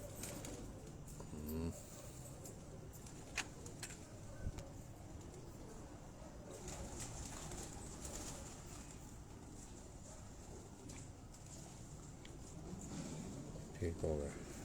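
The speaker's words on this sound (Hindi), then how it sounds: "ये उन्हीं की घर की ब्रीड का एक कबूतर, लाखी ब्रीड का कबूतर" A Lakhi breed pigeon coos softly in a pigeon-keeping setting, low repeated calls over a steady background while people talk nearby.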